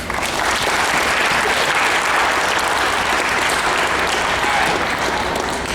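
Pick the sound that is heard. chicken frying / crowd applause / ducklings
crowd applause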